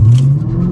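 A Dodge Challenger R/T launching from a standstill on a 0-60 run, a brief loud engine roar with its pitch climbing, close and alone without speech.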